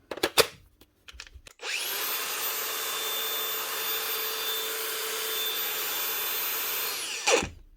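A Makita DGA463 18V cordless angle grinder whirs up to speed and runs at a steady high-pitched whine for several seconds close by, then winds down, after a few brief clicks and handling knocks at the start.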